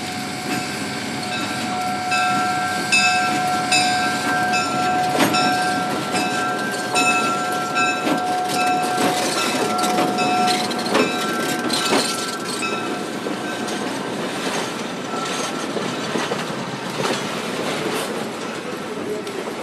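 Steam locomotive number 618 hauling a freight train on a Utah railroad near Deer Creek Reservoir, a steady rolling rumble of cars with rhythmic clatter, faint squeals and tonal whistle-like hums, continuous and fairly close throughout.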